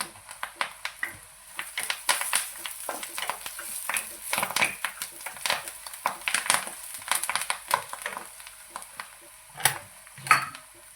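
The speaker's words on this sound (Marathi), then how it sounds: "ते पण छान असं परतून घ्यायचं तेलामध्ये" Something sautéing in oil in a pan with coriander, giving a steady faint sizzle broken by scattered clicks and scrapes of stirring that run throughout.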